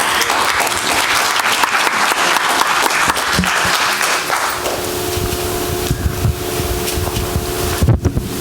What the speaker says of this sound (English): Let's give the ambassador another big round of applause.